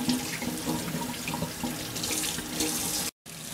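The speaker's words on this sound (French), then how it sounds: "il faut passer la viande à l'eau pour enlever toute trace de sel." Salted meat rinsed under a running kitchen tap, a loud continuous splashing gush of water close up, briefly cut off near the end before flowing again.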